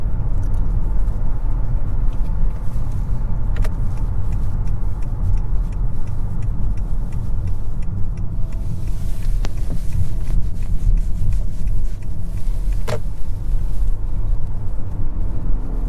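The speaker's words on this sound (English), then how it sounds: "with it in EV mode right now, you can definitely hear a little bit more road noise versus the gas engine versions" Steady road noise inside a 2021 Honda Accord Touring Hybrid driving in EV mode, a loud continuous low rumble of tires with faint wind hiss and a few light ticks, no engine and no talk.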